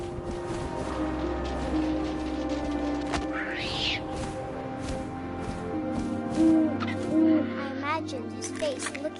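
Soft owl hoots in the video game What Remains of Edith Finch sound a few times over a quiet, tonal game ambience with faint wind and brief sweeping effects.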